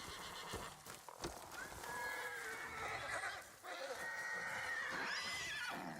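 Horse neighing in the video game Ghost of Yotei, on snowy Teshio Ridge: several drawn-out whinnies rise and fall over about six seconds, close and fairly loud, with restless shuffling and faint ambient noise underneath.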